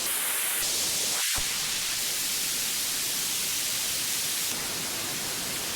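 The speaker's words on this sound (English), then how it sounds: "I'm just going to make it into complete white noise" A synthesizer noise generator puts out constant, loud white-noise hiss, with one very short dropout near the start before the hiss continues unchanged.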